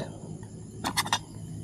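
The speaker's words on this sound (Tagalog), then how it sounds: "wala kang ibang naririnig kundi yung huni ng ibon," At a mountaintop campsite, three quick, bright chirps from a bird or insect pop up in a short burst over a quiet, low background hum.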